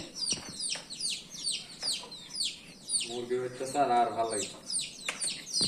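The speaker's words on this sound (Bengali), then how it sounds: "মুরগি দেখো ফাঁকাতে মুরগি এসছে" Village chickens wander a home courtyard, giving repeated high clucks and squawks close by, while a person talks over them and a longer low rolling cluck rises midway.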